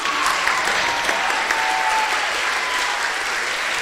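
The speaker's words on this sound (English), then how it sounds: "So give the big round of applause for her." A temple congregation at a Sunday feast gives a steady round of applause for a teacher, continuous dense clapping at even volume throughout, with no talking over it.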